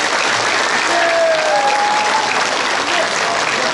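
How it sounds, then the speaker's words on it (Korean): Audience applause fills a hall after a university professor's lecture at a nuclear armament coalition launch event, steady and dense clapping throughout with a few faint voices mixed in. "또 한 분의 똑똑하고 용기 있는 우리 지식인 서균열 교수님께 다시 한번 박수 부탁드립니다"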